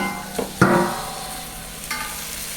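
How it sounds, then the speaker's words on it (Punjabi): Onion, garlic and tomato fry in a pan with a soft, steady sizzle, marked by a couple of brief stirring scrapes and a clatter near the start, close by and moderately quiet. "ਪਿਆਜ਼ ਲਸਣ ਟਮਾਟਰ ਆਪਣਾ ਭੁੱਜ ਗਿਆ"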